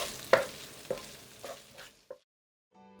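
Rice cakes (garaetteok) tossed in a pan with a sizzling ketchup, corn syrup, sugar, garlic and soy sauce glaze: four or five quick scraping stirs spaced about half a second apart, then near silence once the heat is off.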